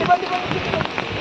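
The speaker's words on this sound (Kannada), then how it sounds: "ಈಗ ಮಳೆ ಬರ್ತಾ ಉಂಟಲ್ಲ" Rain falling outdoors, a soft continuous patter of drops heard in a short burst, with a little background noise under it.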